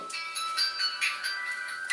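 A mobile phone rings with an incoming call in a classroom, a bright electronic ringtone melody repeating in short pulses, fairly close and clear with no speech over it.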